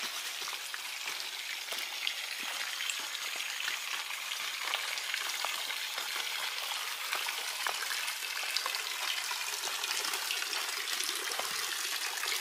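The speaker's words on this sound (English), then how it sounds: "So the water comes through here and it kind of acts like as a filter" Water gushes steadily through a tunnel on an organic farm, pouring into a tank with a constant loud hiss and splash, unbroken for the whole stretch and without talk.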